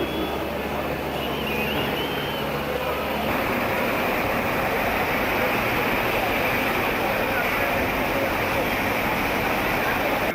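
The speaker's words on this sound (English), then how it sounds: "Here's another drinking fountain in Italy." Water from a public drinking fountain in Italy runs in a steady, loud rush, a broad continuous splashing that fills the whole stretch with no pause.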